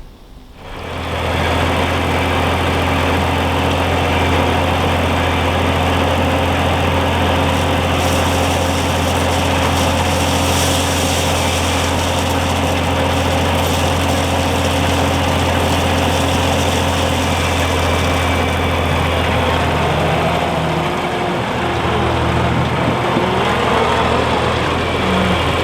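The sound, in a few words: skid steer engine running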